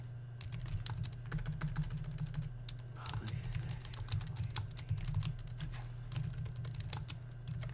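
Steady, rapid typing on a computer keyboard while writing a beginner Java program, clicks dense and close against a constant low hum, no talking.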